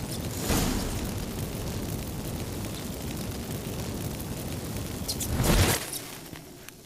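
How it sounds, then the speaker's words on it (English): Magic fireworks in The Witcher 3 give a roaring, rumbling burst, then a sustained wash of noise and a second swelling blast near the end, heard alone without talk. "Get ready for some magic fireworks."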